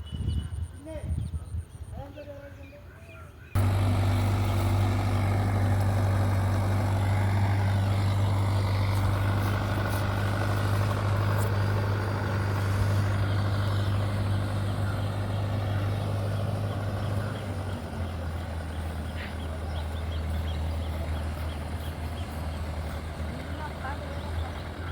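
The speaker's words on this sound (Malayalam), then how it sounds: "ഒരു കണ്ടത്തിൽ നിന്ന് അടുത്ത കണ്ടത്തിലേക്ക് ട്രാക്ടർ അങ്ങോട്ട് പോവുകയാണേ" A tractor engine moving between paddy fields, a loud steady diesel drone with a low rumble that shifts pitch partway through, continuous throughout with faint background noise.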